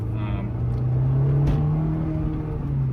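A 2004 Honda S2000 roadster with a 6-speed revs its engine, a steady, close, buzzing drone that rises and holds with a slight surge midway, a voice faintly present underneath.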